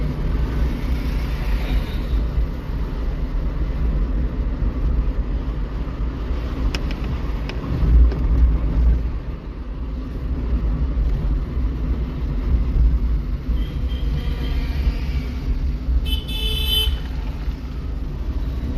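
A car moves steadily through a driving lesson, its engine and road rumble holding a constant low drone, with a brief horn-like toot near the end.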